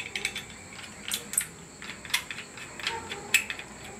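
A wooden blade being tightened on a Makita marble saw gives a series of small metallic clicks and ratcheting ticks, close and irregular, with no speech.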